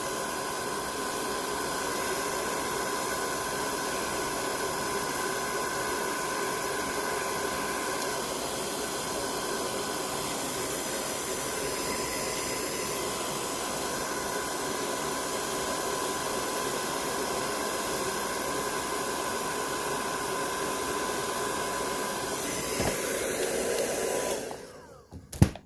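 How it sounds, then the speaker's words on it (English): A hair dryer runs continuously, a steady loud whooshing roar blowing hair into place, close by and unbroken, cutting off at the very end. "I always have to like blow dry it down"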